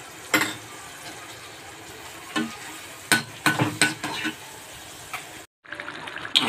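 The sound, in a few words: onion frying in oil with turmeric, stirred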